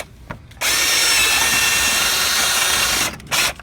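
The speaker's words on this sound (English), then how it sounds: "that's going to be a great spot for us to drill through" A power drill bores through a Jeep JK fender, one steady loud whine of about two and a half seconds, then a brief second burst after a short pause.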